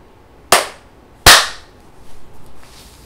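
Two sharp, loud hand claps ring out close in a quiet room, spaced under a second apart, each with a short decaying echo, followed by faint soft sounds.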